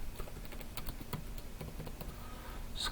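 Someone types on a computer keyboard, with quiet, irregular key clicks tapping along at a steady pace, close by and soft.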